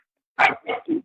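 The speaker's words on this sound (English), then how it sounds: "man, you can hear my dog in the background." A dog barks three times in quick succession, close and fairly loud, with short gaps between the barks and silence before the first.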